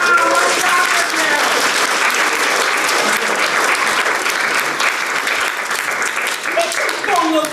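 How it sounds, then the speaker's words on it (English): Sustained audience applause at a Muppets and puppets event fills the room, loud and dense throughout, with a voice speaking over it. "Applause, applause."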